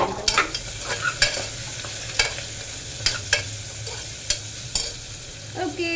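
Onions fry in a pan with curry leaves, giving a steady sizzle while a spoon stirs and scrapes in irregular clinks and knocks, close and alone without talk.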